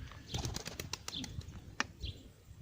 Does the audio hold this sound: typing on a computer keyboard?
no